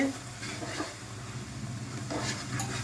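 A spoon stirs and mixes wheat khichdo in a pot, with green chilli paste mixed in, giving soft scraping strokes over a faint steady sizzle, close and fairly quiet, with no talking.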